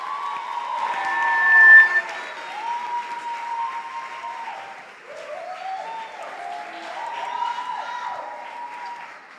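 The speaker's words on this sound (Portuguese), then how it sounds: "eu queria que vocês nesse momento aplaudissem a Jesus" Congregation clapping in a church, applause filling the room steadily for several seconds with a brief louder swell near the start and a scattered cheer or whistle within the crowd noise.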